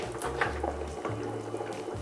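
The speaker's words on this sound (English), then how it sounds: "Okay, starts boiling." Asam curry with stingray simmers in a pot on the stove, a continuous low bubbling and gurgle of boiling liquid heard alone at moderate level.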